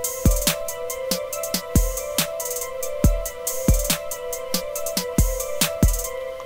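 Layered synth trap melody built in LMMS, sustained tonal synth notes over a repeating pattern of punchy deep 808-style hits and crisp hi-hats, steady and loud with no voice.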